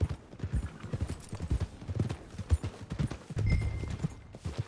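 Horse hooves clip-clop steadily in a PS4 video game, an uneven run of close, fairly loud thuds across the whole stretch, with a faint rumble near the end and no speech.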